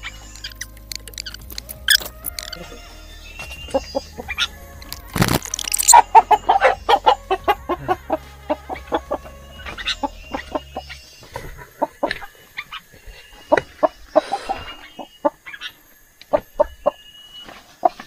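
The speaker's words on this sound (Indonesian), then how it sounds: "Ntar aku ambil dulu ayamnya." A chicken clucks in a forest, with many short, sharp clucks and squawks coming in irregular bursts. Nobody speaks.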